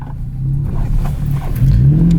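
A Toyota Tacoma pickup in sport plus mode accelerates hard, its engine a loud, steady low rumble that climbs in pitch as it revs, heard from inside the cab with no talking.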